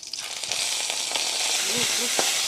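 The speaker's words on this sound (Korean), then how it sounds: "새우 간장 게살을 넣고 볶아요" Shrimp, crab meat and soy sauce stir-fry in a pan for a basil pesto risotto, giving a steady, close sizzle throughout with a faint voice briefly underneath.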